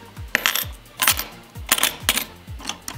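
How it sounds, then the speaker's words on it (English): Coins dropping into a 3D-printed plastic coin sorter, several bright metallic clinks and rattles arriving in quick uneven bursts, close and loud, with no talk. "Coins going in."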